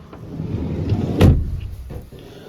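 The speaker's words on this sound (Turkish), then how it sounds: "Kapıyı şöyle çekelim." A 2024 Ford Courier commercial van door is pulled shut, giving a single solid thump at the midpoint, with softer handling sounds before and after.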